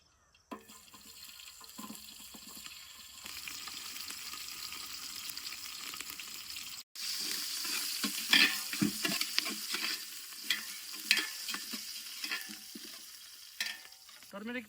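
Onion and green chili frying in cooking oil for a mixed vegetable curry, a steady sizzle with stirring scrapes and splashy bursts, briefly cut off midway and then louder and busier with clinks, no talking.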